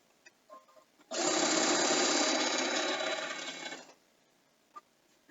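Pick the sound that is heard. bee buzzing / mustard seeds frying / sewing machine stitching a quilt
sewing machine stitching a quilt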